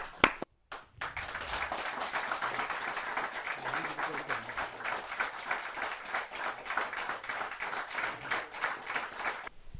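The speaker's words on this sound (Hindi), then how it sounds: "भिवानी से पधारे हुए अंकुर अग्रवाल जी को आप सबकी जोरदार तालियों से स्वागत करते हैं" An audience at a Hindi village poetry gathering claps in sustained, dense applause from a brief opening break to the end, steady and fairly loud with no voices over it.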